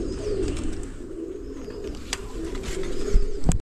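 Pigeons at a pigeon flying tournament give soft, repeated cooing calls, close and fairly clear, with a few sharp clicks and knocks near the end.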